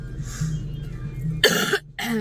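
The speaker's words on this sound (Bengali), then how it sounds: "এত কাশি হচ্ছে যে" A person who is sick with a persistent cough lets out two loud, harsh coughs close to the mic after a stretch of low, rumbling background.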